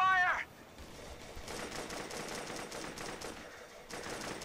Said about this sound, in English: This is Alpha team. We're under fire.